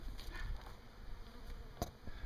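Bees drone inside a hive box, a low, continuous buzz with faint wing whirs close by, heard alone.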